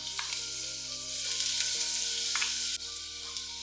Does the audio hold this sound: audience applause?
no